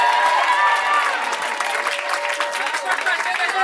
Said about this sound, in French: Est-ce qu'on peut applaudir très fort pour lui, s'il vous plaît?